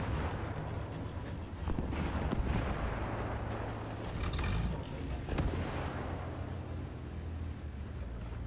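Tank cannon fire in the video game War Thunder during a Russian tank battle, several booming shots with sharp cracks and rumbling tails spread over eight seconds, set against a steady engine drone.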